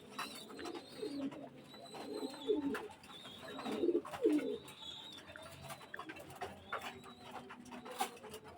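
Pigeons of fancy breeds such as KTM, Oman and 128 Teddy coo in soft, repeated rolling calls from nearby, with a few faint chirps and light background noise around them.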